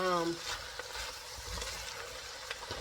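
Vegetables cooking in a pan for a homemade meaty spaghetti sauce give a steady, soft sizzle with faint stirring clatter, close by, with no one talking.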